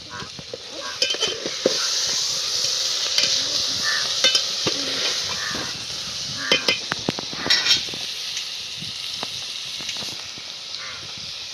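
Finely chopped potatoes and peas sizzling and frying in a pan for masale bhat, with steady crackle and repeated stirring scrapes and clinks of a utensil, close up, no talk.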